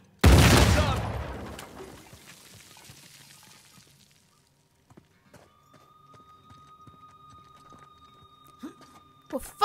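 Gunfire in Uncharted 4: A Thief's End, a loud burst of sharp shots at the start that fades into a quieter stretch with scattered faint clicks and small impacts.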